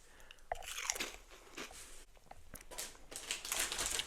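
Ketchup-flavoured potato chips being bitten and chewed close up, with loud crisp crunches and crackling chews repeating irregularly throughout.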